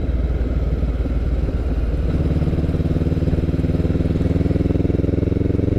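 Honda CB500X parallel-twin motorcycle engine lugging at low revs around 2,000 RPM while riding, a steady, loud, throbbing pulse with road and wind noise.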